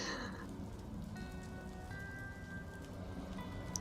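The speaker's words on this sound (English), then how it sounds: "I really like this rain effect" Steady rain falls in a Batman video game scene, a soft, even patter of drops on surfaces that keeps a constant level with no voices over it.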